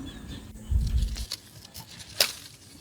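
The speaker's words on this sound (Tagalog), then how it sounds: "pakinggan nyo yung tunog ng dahon" Close rustling and crinkling of garden plant leaves as their ties are removed, a burst of crunchy rustle followed by lighter scattered crackles and one sharp snap.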